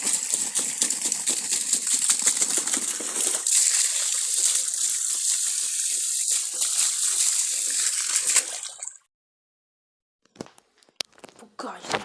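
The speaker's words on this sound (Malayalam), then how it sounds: "നമ്മൾ വെള്ളം നിറച്ചുകൊണ്ടിരിക്കുകയാണ്" Water pours steadily into a container for about eight seconds as a continuous rushing, splashing gush. It stops abruptly, leaving near silence broken by a few faint knocks and drips.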